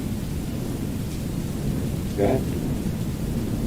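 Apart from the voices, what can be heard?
rain in a video game (Wickie)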